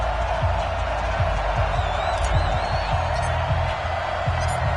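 Stadium crowd noise from an EA Sports NFL video game, Chicago Bears versus Detroit Lions, a steady broad roar of fans with scattered whoops and faint thumps running evenly throughout at a moderate, distant level.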